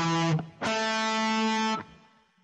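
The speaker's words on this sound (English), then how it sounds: "Now this song uses 3-note power chords," Distorted electric guitar strums two three-note power chords in a rock pattern, a short stab followed by a longer sustained chord that rings out and fades, heard alone without talk.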